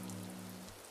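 Soft, steady rain falls in the Animal Crossing video game as a faint, even hiss with a low hum underneath.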